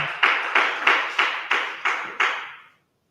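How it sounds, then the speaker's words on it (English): Clapping at an unveiling event, about seven distinct, evenly spaced claps, each with a short ringing tail, fairly close and alone before it stops into silence. "A round of applause for her."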